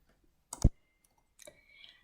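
Several sharp clicks from a computer keyboard while text is typed into a Python script, a close tight burst of keystrokes followed by a few softer scattered taps.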